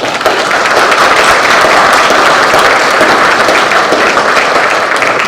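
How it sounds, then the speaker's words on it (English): A crowd at a delegates meeting applauding loudly and steadily, dense clapping that holds at full strength from start to finish with no voices standing out. "Round of applause."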